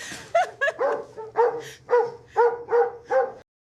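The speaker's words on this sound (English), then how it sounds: "Dogs aren't allowed in here, ma'am." A dog barks about seven times in an uneven rhythm, loud and close, each bark short and yelping, with nothing else audible between them.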